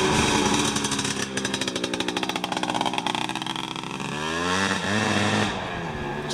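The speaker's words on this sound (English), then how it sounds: "Watch out, there's a big bike coming." A big motorcycle rumbles past nearby, its engine loud and buzzing throughout, with the pitch sliding and wavering as it goes by and then fading slightly.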